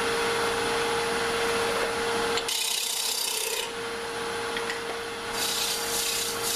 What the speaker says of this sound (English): Now I'm going to take my round nose scraper and just do a little bit on the inside of the bowl.